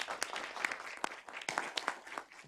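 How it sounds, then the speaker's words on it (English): Scattered applause from a small audience at a conference's closing remarks, a few distinct claps standing out over a soft, thin patter, fairly faint and distant. "You deserve a round of applause."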